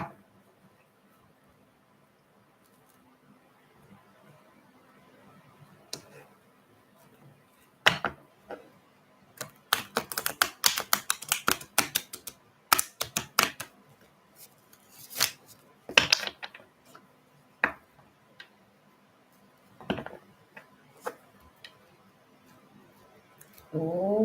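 Tarot cards shuffled and handled at close range, bursts of crisp riffling and flicking clustered in the middle of a quiet stretch, with scattered taps and card slaps before and after.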